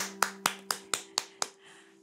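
A child-oriented sing-along ends with six crisp, evenly spaced claps, sharp and close, over a faint steady background tone, then a brief quiet tail.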